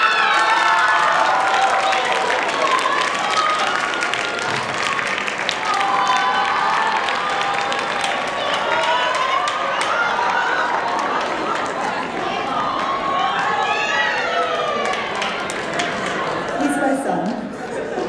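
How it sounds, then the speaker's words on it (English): Audience applauding and cheering for the winner of the Poetry Out Loud 2019 recitation contest, a dense, steady wash of clapping with shouts and whoops rising through it, sustained at full volume. "another round of applause"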